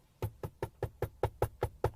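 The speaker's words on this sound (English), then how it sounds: "Police knocking at your door." Nine sharp knocks on a door in a steady, evenly spaced rhythm, close and fairly loud with no voices.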